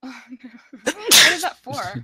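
A single loud, sharp sneeze bursts out between brief bits of conversation during a tabletop D&D session, with a voice speaking just before and after it.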